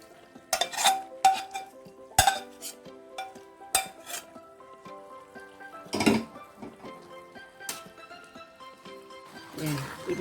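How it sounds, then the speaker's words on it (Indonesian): A spoon stirs goat head stew in a home cooking pot, making irregular metallic clinks and scrapes against the pot with quieter bubbling between them, while someone talks throughout. "ini sekali-sekali harus diaduk ya, supaya merata matangnya"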